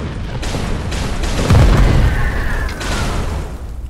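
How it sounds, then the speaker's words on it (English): A drillship explodes in the video game Volcanoids with a loud, deep boom and rumbling blast near the middle, over a constant heavy rumble. "Drillship exploding."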